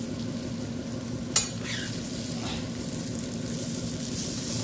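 Stuffed masala okra (bharwa bhindi) frying in a pan, a steady low sizzle throughout with one brief sharp clatter as the pieces are turned over, no talking.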